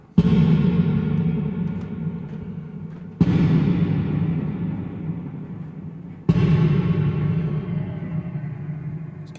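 Three big, heavily reverberant 80s-style snare hits from an Arturia MiniBrute 2 synthesizer, spaced evenly about three seconds apart, each crashing loudly and washing out in a long decaying tail.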